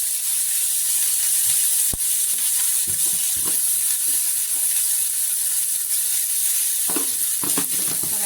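Tomatoes and brinjal with salt sautéing in a pan for chutney, a loud continuous sizzle and hiss broken by scraping stirs and a sharp clack of a spoon, no speech.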